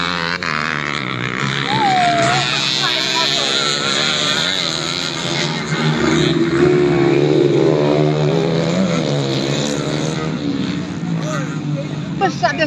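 Motorcycles race loudly in a village race at Telang Jaya, engines revving and whining with rising and falling pitch close by, under excited shouting and chatter from onlookers.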